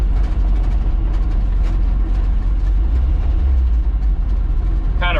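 An old truck with brake problems slows toward a stop on its handbrake, its engine a loud, steady low rumble with a faint rattle throughout and a brief squeal at the very end.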